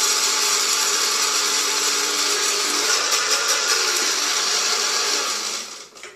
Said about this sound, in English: So we're going to use this handy dandy spice grinder, which is awesome. Waring spice grinder.